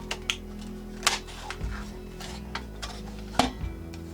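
Paper card being cut with a hole punch while making a folding screen greeting card: a few sharp clicks and snaps of the punch mechanism, close and quiet, separated by soft handling rustles and small knocks.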